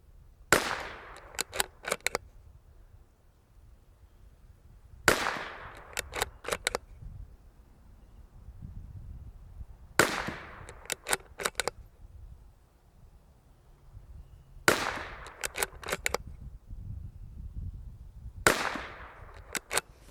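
Five evenly spaced shots from a Bergara BMR X .22LR rimfire rifle, each a sharp crack with a short ringing tail, fired about five seconds apart outdoors.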